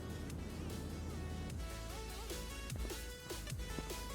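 A Nissan Skyline engine in Car Mechanic Simulator drones loudly and steadily, its pitch sliding up and down in short revving shifts, continuous throughout without talk.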